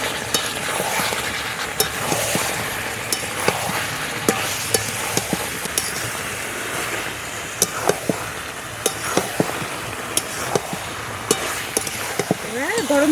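Jackfruit and eggs sautéing in a pan, with a steady sizzle and frequent sharp clinks of a spatula stirring against the metal, loud and close throughout.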